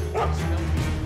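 Dogs in the stealth video game Mark of the Ninja bark and yip in a short, loud burst of game audio.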